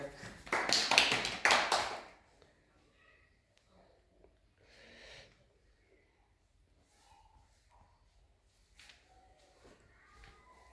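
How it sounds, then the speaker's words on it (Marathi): Children clap for a classmate named Rupali during a classroom shape game, a short loud burst of clapping lasting about two seconds before the room drops to near quiet with faint scattered taps and rustles. "रुपालीसाठी टाळ्या वाजा थोड्या"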